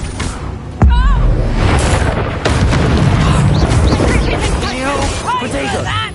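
Expelliarmus disarming spell cast in the video game Hogwarts Legacy: a sudden loud boom-like blast rings out, followed by continuous crackling battle noise under overlapping shouted voices.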